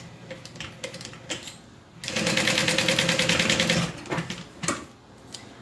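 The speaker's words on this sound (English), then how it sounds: "then I'm just going to stitch right along the side" Sewing machine stitching along the side of a folded fabric wristlet strap at 3.5 stitch length, a steady rapid mechanical run of about two seconds, close and loud, framed by quieter handling clicks before and after.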